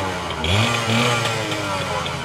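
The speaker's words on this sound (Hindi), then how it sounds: "टिपिकल 2 स्ट्रोक इंजन का साउंड, यामाहा 100 सीसी" A Yamaha 100cc two-stroke motorcycle engine revs nearby with a buzzy, crackling note, the pitch climbing and dipping through a couple of throttle blips over a continuous idle.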